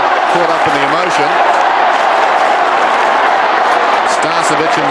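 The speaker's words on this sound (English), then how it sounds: "The crowd caught up in the emotion." Football crowd at the MCG during a 1988 VFL semi final between Collingwood and Melbourne, a steady roar of cheering filling the stadium throughout, with a commentator's voice running over it.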